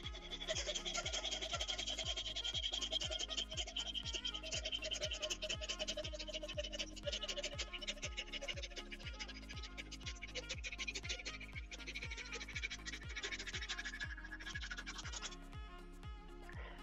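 A small hacksaw gently scores a starting cut in a guitar-building workshop, its rapid, even back-and-forth rasping strokes close and continuous, with no talk.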